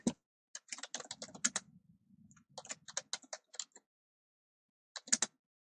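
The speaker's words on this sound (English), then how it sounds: "I'm just typing in people's names." Typing on a computer keyboard, clear quick clicking keystrokes in bursts with short pauses, close and fairly quiet, no talking.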